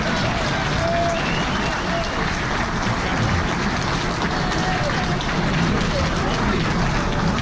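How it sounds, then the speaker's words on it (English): Sustained applause from a banquet audience at a sports officials hall of fame induction dinner, steady dense clapping with crowd murmur throughout, filling the room without a break. "Now, a big round of applause for all these guys."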